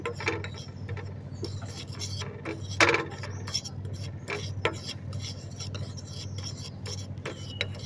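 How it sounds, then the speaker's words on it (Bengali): Rice flour and turmeric powder being mixed in a bowl, heard as continuous close rasping and rubbing strokes with occasional clinks of a spoon against the bowl. No one speaks. "এখন চাউলের গুঁড়া এবং হলুদের গুঁড়াটাকে ভালো করে মিক্স করে নিব, কিছুক্ষণ নাড়াচাড়া করে।"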